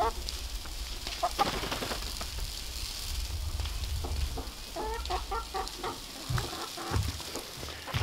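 Chickens on an off-grid homestead cluck in short, scattered bursts, fairly faint and close-by, over a low outdoor background.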